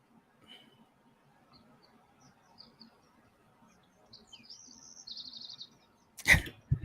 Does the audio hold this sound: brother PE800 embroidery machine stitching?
no